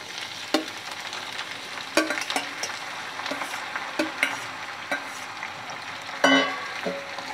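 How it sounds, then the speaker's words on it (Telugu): Onions frying in a pan for boti curry, giving a steady crackling sizzle broken by irregular clacks and scrapes of stirring, with a louder burst near the end. "ఉల్లిపాయలు అన్నీ చక్కగా వేగుతున్నాయి."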